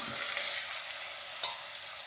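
Garlic and onion fry in a pan, producing a steady, dense sizzle with a couple of soft stirring scrapes, fairly close and without speech.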